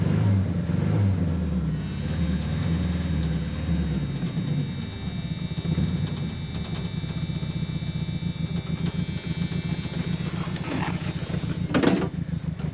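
Engine of a 1960s Ford Mustang that sat unused for 20 years, idling roughly with a low, uneven throbbing rumble, close and steady, with a brief rattling clatter near the end.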